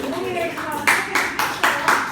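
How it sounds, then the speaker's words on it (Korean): Church congregation clapping for a female pastor, a few sharp, evenly spaced claps in unison following a stretch of speech-like sound, moderately close. "우리 강 목사님한테 박수 한번 보내드리시죠"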